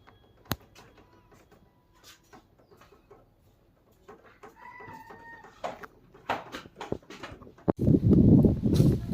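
A rooster in a Raigad village in Konkan, giving a few short clucks and calls at moderate distance, amid rustling movement and a burst of loud scuffling noise at the end.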